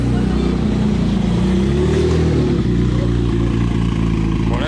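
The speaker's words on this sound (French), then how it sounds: "Échappement libre, celle-ci, elle fait un bruit de dingue, j'arrive même pas à parler ni à m'entendre." A Jaguar XJ220 with a straight-through exhaust roars loudly and steadily at close range, its deep engine note holding continuously through the whole stretch with slight shifts in pitch.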